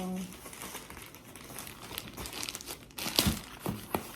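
Crinkling and rustling of a DHL plastic shipping bag and packaging being handled up close, with a few sharper tearing crackles toward the end and a voice talking underneath.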